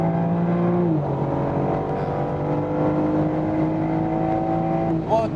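A BMW M4 Competition coupe accelerates on a test drive: a steady, loud engine drone whose tones climb smoothly through the gears, with a brief shift dip near the start, heard from the cabin.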